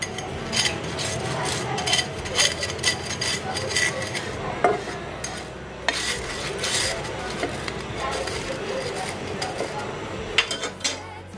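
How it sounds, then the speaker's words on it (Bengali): A sandwich fries in butter in a pan, giving a low sizzle under repeated scrapes and clinks of a utensil against the pan, close and moderately loud, with no voices heard. "একটু বাটার দিয়ে মুচমুচে করে ভেজে নিচ্ছিলাম"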